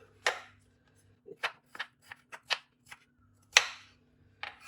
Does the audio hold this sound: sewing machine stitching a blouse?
no